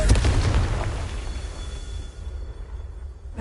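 A Confringo fire spell goes off in the Hogwarts Legacy video game: a loud, close burst right at the start that rumbles and fades away over the next few seconds.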